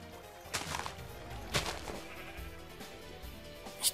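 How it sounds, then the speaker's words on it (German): Sheep bleating in Minecraft, a few short faint bleats scattered among quiet game sounds with no talking. "Und da hinten ist ja noch ein Schaf."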